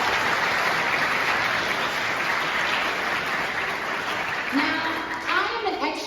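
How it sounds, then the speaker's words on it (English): Audience at a university arts school convocation applauds in a sustained wash of clapping, then it thins as a voice begins speaking toward the end. "Please give yourselves a round of applause."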